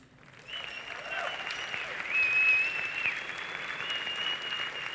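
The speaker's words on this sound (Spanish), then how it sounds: "un aplauso para él" Audience applause for producer and composer Lucas Vidal at the Platino awards, a steady wash of clapping from a large indoor crowd with a faint tone and murmur above it, swelling slightly midway.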